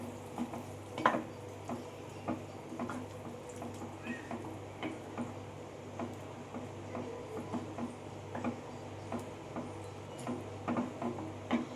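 Chickpeas being stirred into spices frying in oil in a pan, with soft sizzling and irregular scraping taps of a spoon against the pan under a low background hum.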